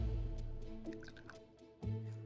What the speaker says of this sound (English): when I do pour it into the glass now and give it a try